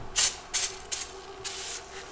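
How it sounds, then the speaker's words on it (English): Super Clean cleaner sprayed into the gauge cluster of a 1966 Ford F250, five short hissing bursts in an uneven rhythm, the first loudest and the later ones lighter, close to the microphone with no talk. "We're gonna give this guy a good shake, spray it up in there"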